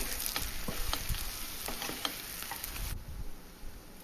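Chicken dry roast sizzles and fries in a pan while being stirred, with steady close crackling and scattered scraping clicks from the stirring. No talking.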